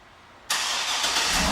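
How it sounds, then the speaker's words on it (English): A 2007 Cadillac Escalade engine fires up by remote start, a sudden loud crank that settles at once into a steady, close idle roar. "and the car starts right up."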